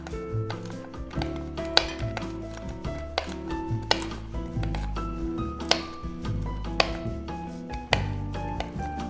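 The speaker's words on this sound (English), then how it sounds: "I'm just gonna give these a quick chop" A knife chops pecans on a board in a steady series of close, sharp taps and thuds, with background music playing underneath and no talking.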